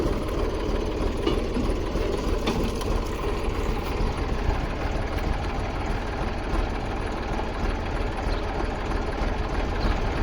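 A tractor engine runs on a farm field during maize sowing, giving a steady, fairly loud, continuous rumble with no breaks from start to finish.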